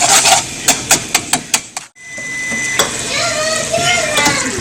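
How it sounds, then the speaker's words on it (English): Thick keto caramel boiling in a pan as it is stirred, with sharp clinks of a utensil against the pan in quick succession, then a steady bubbling sizzle with faint scraping. "Keep stirring."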